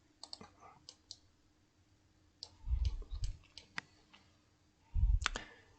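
Sharp, dry computer mouse clicks come while modelling a shaft in CATIA V5 CAD software, a handful of isolated taps spread across a quiet stretch, with a few low thumps in between.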